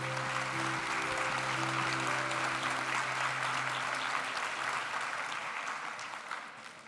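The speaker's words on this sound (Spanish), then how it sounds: "a este grupo de filósofos brindémosles un fuerte aplauso" A crowd at a university graduation ceremony claps for graduating philosophy students, a dense, steady applause that fills the hall and slowly fades toward the end.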